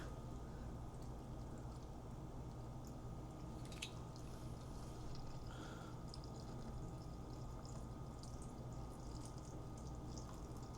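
Coconut water poured into a smoothie blender cup, a steady low liquid rush filling the container, fairly quiet and continuous with no talking.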